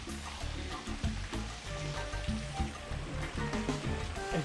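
River flowing near La Chorrea waterfall outside Bogota, Colombia, a steady close wash of rushing water, with a few low thumps and rustles mixed in.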